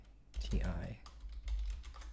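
Typing on a computer keyboard with soft clustered key clicks, a voice speaking over part of it and a low hum underneath.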